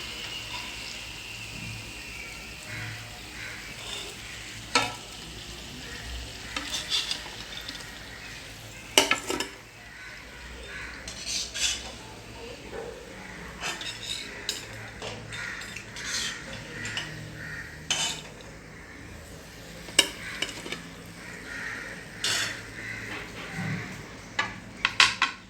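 Potato bonda fries in hot oil while being turned and lifted out, a soft continuous sizzle broken by scattered clinks and scrapes of a metal spoon against the pan.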